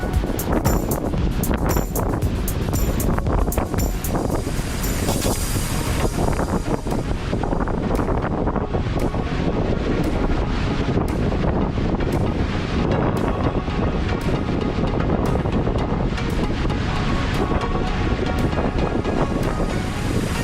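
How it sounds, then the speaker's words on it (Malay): Strong wind roars and buffets continuously around a campervan at a flooded seaside campsite in Port Dickson, a loud, dense rushing that never lets up for the whole stretch. "Angin kuat."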